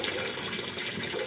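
Water gushes steadily into a Whirlpool LSP780GP washing machine after a weak water supply is fixed, a continuous close rushing pour with no break.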